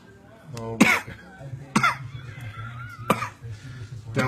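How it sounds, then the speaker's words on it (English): A person coughing after eating a Carolina Reaper pepper in a hot pepper challenge, three harsh, close coughs spaced a second or so apart, with light murmuring and noise in between. "I feel like I'm going to be coughing a little bit more afterward."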